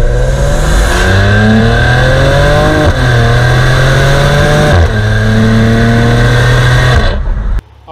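A 2021 Maserati Levante SUV driving in Mexico, its engine loud and close as it pulls hard through several gear upshifts, each rising whine dropping back before climbing again.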